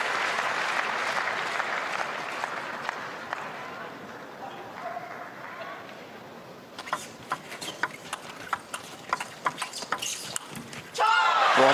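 A crowd applauds steadily at a World Championships 2017 table tennis doubles match, first as a dense wash of clapping under a commentator's voice, then as sparser, distinct claps.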